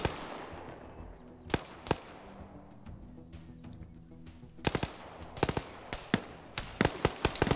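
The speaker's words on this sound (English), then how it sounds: "Another grenade goes in." Grenade blasts and gunfire in a team PvP shooter match, with sharp loud bursts early and a dense cluster of repeated bangs in the second half, over a low rumbling game background.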